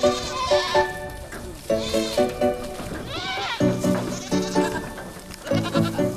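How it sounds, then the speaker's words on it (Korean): Goats bleat repeatedly in loud, wavering cries as they are caught in a wide yard and loaded onto a vehicle in rural Africa, with several overlapping calls close by. "가기 위해서는 우선 염소를 차에 실어야 하는데요"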